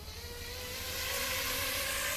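A drone with cracked motor arms runs steadily, its rotors giving a continuous buzzing whine that holds constant and close throughout, with no voices over it.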